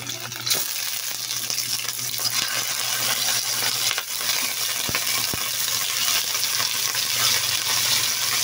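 Onions fry in a pan while being stirred, giving a steady close sizzle with a few light scrapes and clicks and no talking.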